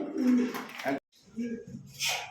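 Pigeons coo softly at a pigeon farm in short, low bursts, mixed with nearby human voices in a quiet setting.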